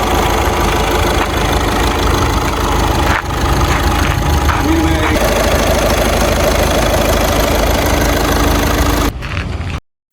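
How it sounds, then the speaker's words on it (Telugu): A 2012 Skoda car engine runs loud and close with a steady rumbling idle and some knocking vibration, then cuts off abruptly at the end. "ఇప్పుడు చూడండి ఇంజన్ స్టార్ట్ చేస్తున్నా"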